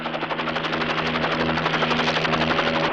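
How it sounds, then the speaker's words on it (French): Police helicopters pass close overhead in a dramatic film scene, a loud, steady throbbing rotor chop with a droning engine whine filling the scene. "ces hélicoptères de la police!"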